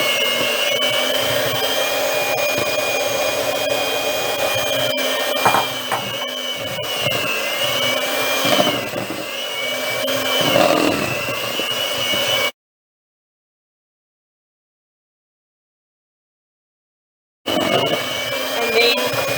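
An electric mixer whirs loudly and steadily through chocolate cream cheese frosting made with vanilla essence, icing sugar and cocoa powder, cutting out for a few seconds before starting up again.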